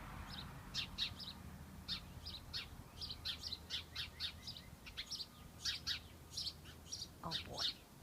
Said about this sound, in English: Little house sparrows.